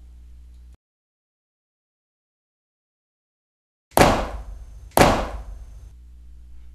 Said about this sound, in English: Oh my God, someone is shooting out there.